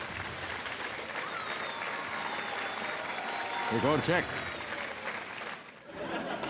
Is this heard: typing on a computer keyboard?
no